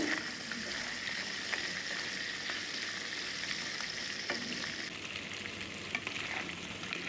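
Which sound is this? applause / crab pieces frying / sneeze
crab pieces frying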